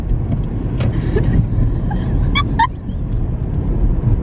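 A car drives along a road, heard from inside as a steady low rumble of engine and tyres with a few faint, brief chirps near the middle and no talking.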